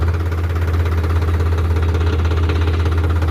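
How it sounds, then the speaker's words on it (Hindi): A Farmtrac 60 Worldmax tractor diesel engine idles steadily, a loud, close, even rumble with a constant low throb and faint mechanical knocking, no voices over it. "बिल्कुल स्मूथ आवाज़ है ट्रैक्टर की"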